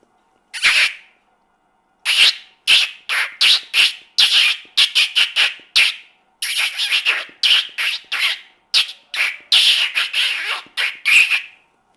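A voice mimics birdsong, producing a long run of short, sharp chirps and squawks in quick bursts with brief pauses, close and clear with no talking.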